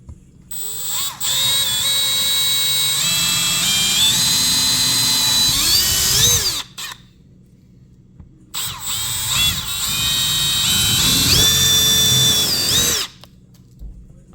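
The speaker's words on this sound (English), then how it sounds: "So I'm gonna drill a pilot hole for this lag to go in" Power drill boring a pilot hole into wood for a lag screw while mounting an extension cord reel, two loud sustained whines of about six and four seconds, each climbing in pitch as the bit bites, with a short pause between.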